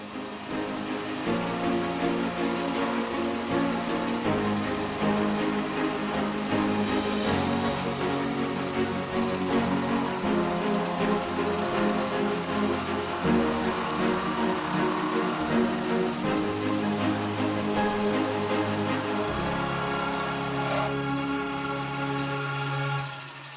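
A wood lathe turns a sycamore pen blank while a tool cuts it, producing a continuous motor drone with shifting cutting tones throughout and no speech.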